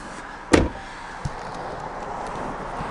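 A Range Rover Sport door shuts with one sharp, solid thud, followed by a faint click and the low hum of the started car inside the cabin.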